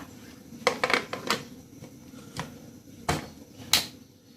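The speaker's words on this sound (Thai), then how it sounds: "ก็จะปิดฝาหม้อเลยค่ะ" A lid is set onto a cooking pot of beef tongue simmering in oyster sauce for noodle soup, giving several light metallic clanks and clicks, a quick cluster early on and a few single knocks later, close and fairly quiet.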